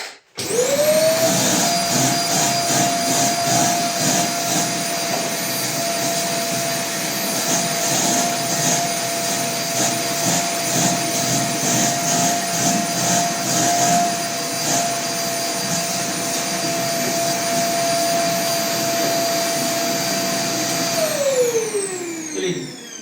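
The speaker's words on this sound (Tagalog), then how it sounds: "And tapos mag-vacuum ta guys sa saba ni karon." A vacuum cleaner whirs to life, runs loud and steady with a high whine, then winds down at the end.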